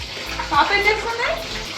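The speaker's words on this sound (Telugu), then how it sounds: "డిషెస్ వాష్ చేస్తుంది" Water runs and splashes in a sink as dishes are washed, a close, continuous wet gurgle with faint clinks, while a voice speaks briefly over it.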